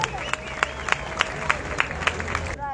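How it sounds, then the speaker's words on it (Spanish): Audience applause at an award ceremony for a figurative landscape art contest, a steady patter of clapping with sharper individual claps standing out, heard under a voice talking. "Fuerte los aplausos."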